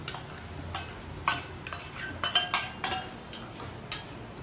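A spoon scrapes and clinks around a pot while curd is stirred in, a close series of irregular metallic taps and scrapes over a quiet background, without speech.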